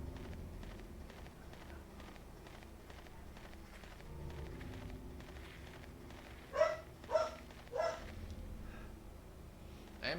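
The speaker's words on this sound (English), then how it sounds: "Our dog barking at the neighbors." A family dog barks at the neighbours, three distant barks in steady succession over a low outdoor hum, faint and far off.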